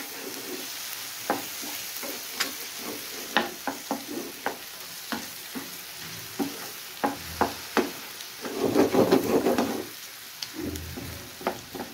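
Chopped tomatoes fry with boiled eggs in a kadhai, a soft sizzle under repeated sharp clicks of a spoon stirring against the pan, with a louder burst of frying partway through.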